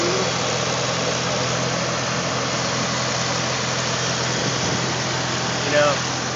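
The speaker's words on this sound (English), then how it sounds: "Like your motor's gonna be heard over this way." A 1992 RT/TT car engine running, a steady dense drone held throughout at constant level, close and loud, with a brief bump near the end.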